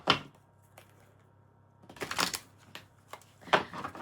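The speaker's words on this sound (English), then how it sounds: "that wasn't a good shuffle at all" Tarot cards are shuffled by hand in a few quiet, separate bursts of riffling and flicking, with near-silent pauses between them and no talk over them.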